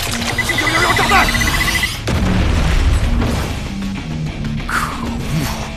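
A bomb goes off in an animated series, with booming blasts and crashes, a whistling squeal, and a sharp break about two seconds in, all under dramatic music with brief voices.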